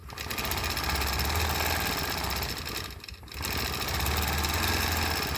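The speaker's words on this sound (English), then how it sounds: "So I'm just going to see how it sews." A longarm quilting machine stitches with cotton thread in a loud, steady mechanical whir that drops briefly midway and then resumes.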